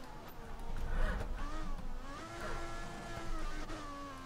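Ferrari Formula 1 engine in the racing game F1 2014 during qualifying at the Hungarian Grand Prix, a loud sustained whine with shifting pitch as it revs and upshifts, with no talk over it.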